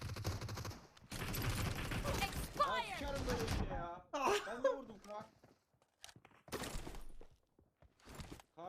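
Bursts of rapid gunfire from PUBG Mobile, loud and repeated in clusters with short gaps, while players talk excitedly over the shooting.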